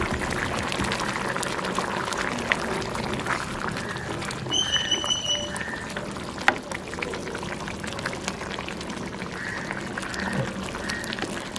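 Fish curry bubbling vigorously in a pot over a high flame, a continuous busy simmer of popping bubbles and liquid burble, close by, with a few faint clinks and brief background noises.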